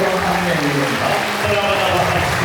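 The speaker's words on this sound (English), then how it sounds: "Give him a little clap of praise to the Lord." A congregation clapping in praise at a healing service, a steady layer of clapping blended under voices and music for a couple of seconds.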